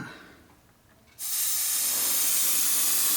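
After a short quiet moment, an airbrush or spray can bursts into a steady, close hiss while paint is sprayed onto a model ferry van chassis, continuing evenly to the end.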